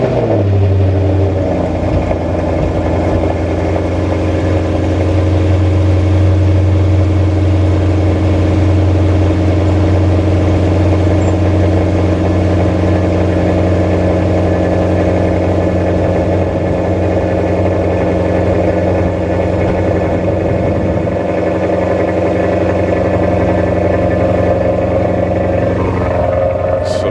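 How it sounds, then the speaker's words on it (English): A Maserati engine cold-starts with a loud, steady roar, its deep low rumble holding strong throughout before easing slightly toward a quieter idle near the end; nearby and alone, with no talking. "let me give you this cold start real quick"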